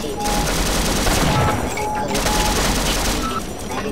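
Turret gunfire in the Sven Co-op shooter, a dense sustained burst of rapid automatic shots running nearly four seconds without pause, loud and close, with voices talking over the clatter.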